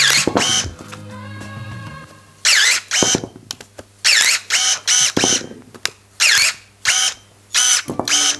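A Worcraft CSC-S20LiB cordless battery pruner cuts through a thick branch up to its maximum diameter, its motor whirring in a series of short, loud bursts, each ending in a snip, with no talking.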